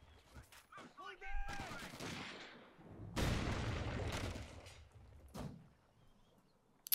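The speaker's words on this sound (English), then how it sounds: "Nathan here is going to take quite a pounding from this mortar" Mortar rounds pound a position in the Company of Heroes 2 strategy game, with several booming impacts and crackling bursts of gunfire in a noisy battle mix, while voices are heard over the fighting.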